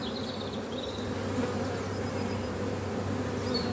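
Honeybees buzz steadily on a hive frame during beekeeping work, a dense continuous hum close to the microphone with occasional higher-pitched passing wingbeats and no speech.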